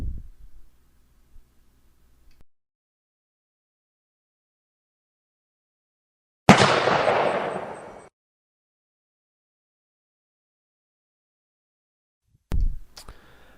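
A Remington 700 Police rifle fires one sharp, loud report that rings out for about a second and a half in near silence, followed several seconds later by another abrupt burst near the end.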